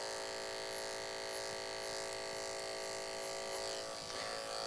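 Electric hair clippers cut a taper on an undercut hairstyle, giving a loud, continuous close buzz with a steady tone and slight variation as the blades move through hair, no talk.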